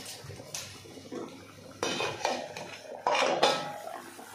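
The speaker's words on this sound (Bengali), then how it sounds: "এবার ঢাকনাটা তুলে দেখব যে আলুগুলো সেদ্ধ হয়েছে কিনা" A metal lid lifted off a pot of boiling potatoes in fish curry gives several clattering clinks and scrapes, followed by a burst of bubbling and steam hiss as the pot opens.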